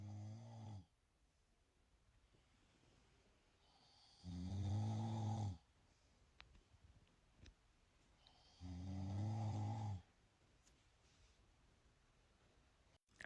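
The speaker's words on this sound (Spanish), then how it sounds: "la noche no deja dormir con tanto ronquido" A husband snores in two long, loud, rasping bursts of about a second and a half each, separated by quiet breathing pauses, with no talking.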